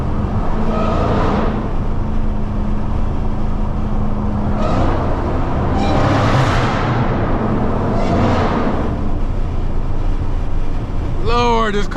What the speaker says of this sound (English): Lord, this car sounds crazy.